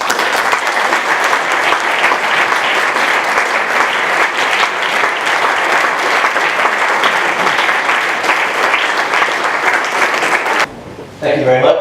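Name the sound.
round of applause at a mayor electing ceremony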